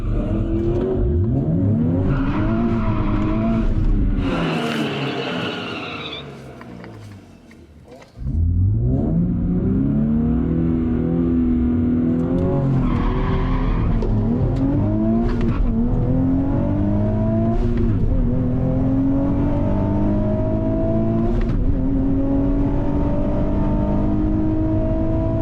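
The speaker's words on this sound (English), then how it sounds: "Doesn't axle tramp as much on launch" A Nissan Z with an upgraded exhaust and tuning launches hard at the drag strip, the engine climbing through gears in repeated rising sweeps. Near-field and loud, with a brief lift mid-run before pulling again.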